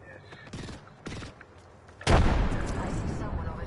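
A thrown frag grenade goes off in a sci-fi shooter video game, one loud blast with a long rumbling decay after a few brief thuds and scattered game sounds.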